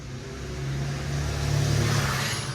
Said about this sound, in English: as that truck raced through my freaking road